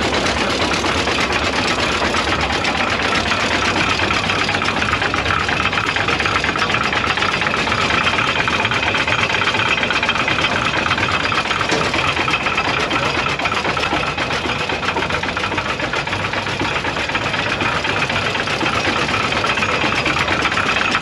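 A 1916 Holt Caterpillar 75 tractor's engine runs continuously at a steady, loud mechanical drone with rapid rhythmic knocking, close by and without talk throughout.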